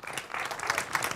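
Audience applause at a moderated dialogue event, a short burst of dense clapping at moderate level, with no voices over it.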